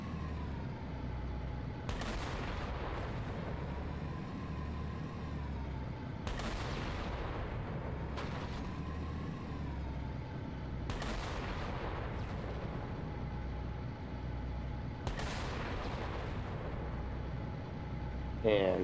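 Tank cannon blasts in Halo: Combat Evolved on Legendary difficulty, four loud booming shots spaced a few seconds apart over a steady engine rumble and battle noise, with talking underneath.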